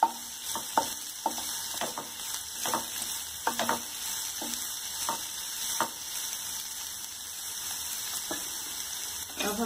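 Vegetables for Schezwan noodles stir-fry in a hot pan or wok, a steady sizzle broken by frequent rhythmic clanks and scrapes of a spatula, fairly close.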